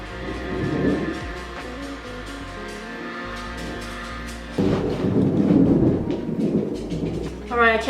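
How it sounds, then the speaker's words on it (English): Thunder from a thunderstorm rumbles low and continuously, swelling louder about halfway through with a broad, rolling roar. "I can't believe it's like thundering right now"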